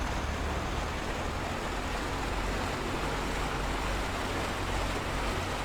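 A Piper J-3 Cub engine idles at 1,000 rpm in a flight simulator game, a steady, even, broadband drone with a low rumble and no voices.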